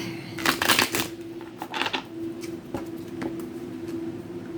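A tarot card deck being shuffled, with bursts of riffling and flicking card sounds up close, separated by shorter taps, over a steady low hum.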